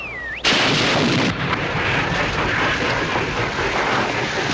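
A field artillery gun firing in a wartime setting, a single loud, close blast that breaks in after a descending whistle, with the roar trailing off into a long, sustained rumble.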